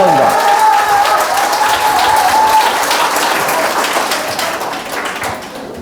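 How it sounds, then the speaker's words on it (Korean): Lecture hall audience breaks into loud sustained applause welcoming a speaker, dense clapping from a large crowd that slowly thins and fades over several seconds, with a voice heard over it early on. "갑자기 박수를 치시는군요."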